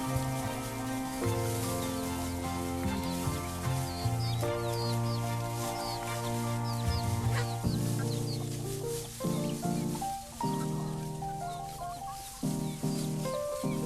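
Chickens let out of their coop cluck and chatter in a dense, continuous flock, with overlapping calls near and far and no talk.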